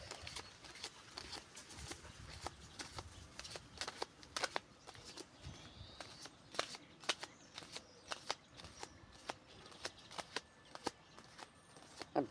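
Playing cards are shuffled and handled in sharp, irregular bursts of riffling and slapping, close and fairly quiet, with no talking heard.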